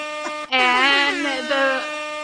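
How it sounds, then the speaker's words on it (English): A single loud, sustained blast from an air horn on a game show, signalling time is up, a steady harmonic blare lasting about two seconds after a short clipped toot. "the air horn tells us it is time"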